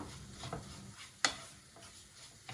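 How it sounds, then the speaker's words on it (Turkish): Tarhana and tomato paste fry in a pan with a faint, steady sizzle, broken by a few sharp clicks of a utensil stirring. "İyice kavuruyoruz tarhanayı ve salçamızı"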